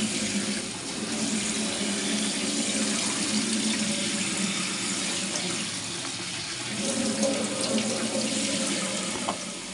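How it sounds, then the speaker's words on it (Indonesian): Tap water pours steadily into a sink while fresh fish are washed, a continuous close rush with slight splashing changes throughout, no voices. "Jadi kita cuci dulu, nanti kita akan bagi."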